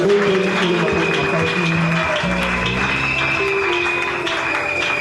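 A church congregation claps and cheers together in sustained applause, mixed with scattered voices and a held musical tone underneath, loud and close throughout.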